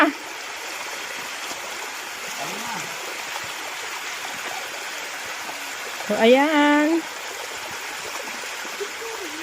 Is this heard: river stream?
yes